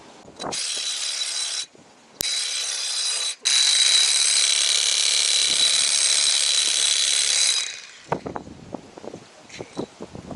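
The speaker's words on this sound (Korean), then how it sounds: "박힌 길이 확인 후 다시 박아봅니다." A loud, harsh rotary hammer drill with an SDS pipe driver roars in long bursts with brief pauses, driving a 30mm square steel tube, then stops, leaving scattered clanks and light knocks of metal nearby.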